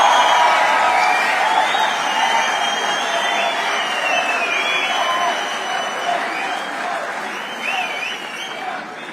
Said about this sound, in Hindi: तालियां तो अब बजने वाली है।